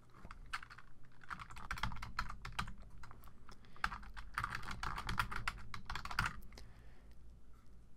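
Fingers typing on a computer keyboard, a close run of quick clicking keystrokes in uneven bursts with brief pauses, quiet and without speech.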